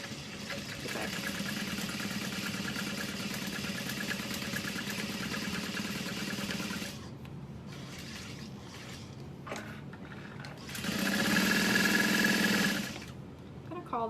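Sewing machine stitching a fabric bag, a steady mechanical whirr running for several seconds, pausing, then a short second burst of stitching near the end.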